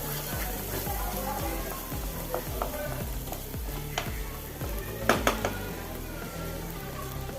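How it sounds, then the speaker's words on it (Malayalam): Masala pasta with salt and pepper sizzles in a pan as a spoon stirs it in a rhythmic series of soft scrapes and knocks, with a few sharper clinks near the end, all close by. "കുരുമുളക് പൊടിയും ചേർത്ത് നല്ലപോലെ ഒന്ന് മിക്സ് ചെയ്യുക"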